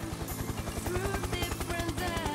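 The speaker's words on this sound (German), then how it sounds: "Natürlich kann der selber Helikopter fliegen." Close helicopter with a fast, steady rotor chop thudding in a regular rhythm, loud and continuous under a faint wash of other noise.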